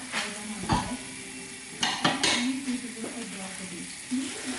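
Soaked, washed rice is drained and added to a pot of boiling water, with several sharp clanks of metal pots and utensils and soft pouring and stirring sounds, while a person talks throughout.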